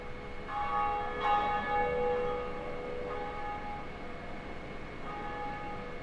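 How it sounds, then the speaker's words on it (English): Bell ringing in Dark Souls Remastered, a sustained resonant toll with long ringing overtones that swell and linger over a low ambient drone, loud and close with no voices. "You will hear the bell ring, and that's what that ringing bell is"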